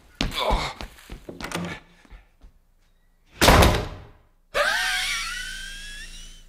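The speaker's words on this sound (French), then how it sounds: "Il lui a défoncé sa porte" Door kicked in during a Breaking Bad episode, heavy thuds and a loud splintering crash, then a sustained shrill, ringing scream-like tone, with brief bumps and near-silent gaps between.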